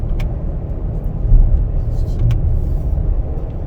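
A 2021 Ford Explorer Timberline drives with a steady low engine and road rumble, held in manual mode and upshifted with the paddles, with a couple of brief higher clicks over the drone.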